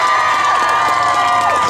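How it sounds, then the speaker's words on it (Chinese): Concert crowd at a wind band festival in Zhongli, Taoyuan, erupting in loud applause and high-pitched screams, a continuous close, intense wall of clapping and shrieking cheers. "热情的掌声加尖叫声"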